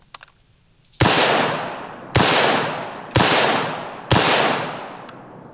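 Four loud, close 5.56 rifle shots fired at a lightweight body armor plate, each a sharp crack with a long decaying tail, spaced about a second apart.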